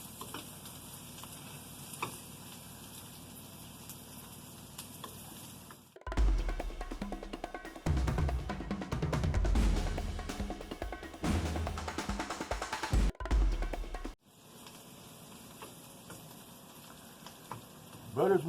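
Butter melts and sizzles in a hot pan while a Wagyu New York strip steak is cooked, giving a loud, dense crackling burst that fades back to quieter room sound.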